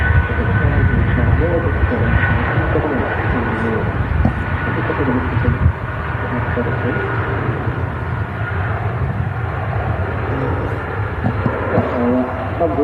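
Jet2 Boeing 757 jet taking off from Manchester Airport, a broad continuous roar of engines at full power, steady and fairly loud from a distance with no clear voices.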